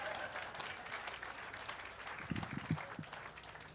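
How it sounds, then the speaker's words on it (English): Scattered audience applause breaks out during a political speech at a Google-hosted talk, soft and fairly distant, with a few sharper claps and murmurs from the room. "I'll take applause anytime"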